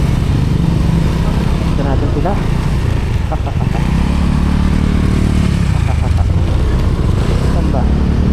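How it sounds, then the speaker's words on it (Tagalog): A motorcycle engine runs nearby, idling and revving with a rough, uneven drone that swells and fades, while people talk over it. "Dito ang motor."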